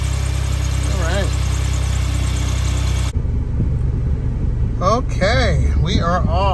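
Starquest motorhome engine idling while warming up, a steady low rumble heard close with a constant hum, under someone talking throughout.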